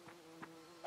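A bee buzzes in the Nintendo Switch farming game Fae Farm, heard as three short, faint buzzing bursts spaced apart over a quiet background.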